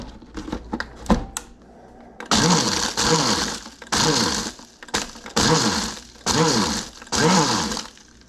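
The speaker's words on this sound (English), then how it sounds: "And blend that up slightly so it's not too lumpy." A blender whirs in repeated short bursts while crushing ice for a cocktail, with five or six loud pulses after a few clinks and knocks of ice being handled, and no talking.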